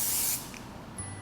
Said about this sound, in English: I think I'm going to use some hairspray just around the hairline.